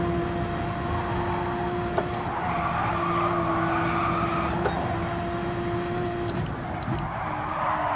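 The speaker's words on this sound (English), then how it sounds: "There's a lot of fucking skidding in the background." Car tires skid and squeal throughout a Gran Turismo 7 race, video game audio, a loud sustained screech over steady engine drone with a few sharp clicks, no talk.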